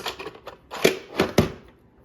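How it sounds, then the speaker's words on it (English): Scissors snip apart paper bulb shapes with a few sharp, close crisp cuts, three louder ones spaced about half a second apart after some lighter taps. "we're just going to cut these guys up. Cut the little bulbs apart."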